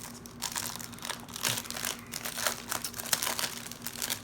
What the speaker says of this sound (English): So let's take it out of the plastic